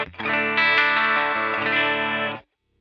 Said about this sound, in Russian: Давайте выберем какой-нибудь классический хорус.